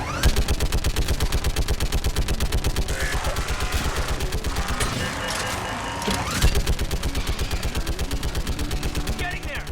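Heavy automatic AE gun in Mass Effect 3 pounds out a long, steady stream of rapid shots, loud and close, briefly easing midway before resuming at full rate, with voices talking over it.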